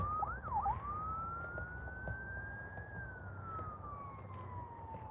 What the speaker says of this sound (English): We got a siren out there on 6th Avenue.